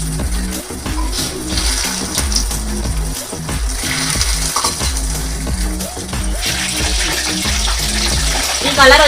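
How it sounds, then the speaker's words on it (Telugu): Breaded chicken pieces fry in hot oil in a home kitchen, a dense, constant sizzle and crackle close by that continues through the whole stretch. "ఈ కలర్ వచ్చేదాకా ఎంపుకోవాలి మంచిగా."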